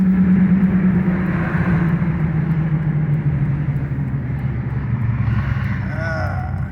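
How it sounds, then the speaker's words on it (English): Old 305/65R20 monster tires rolling on a 2002 Dodge RAM 1500, a loud, continuous low rumbling drone of road noise from inside the moving truck, with no talking. "Y'all hear the sound of my old tires?"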